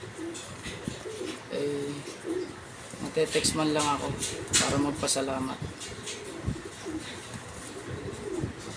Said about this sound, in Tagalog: Kaganda ho ng ibon, no?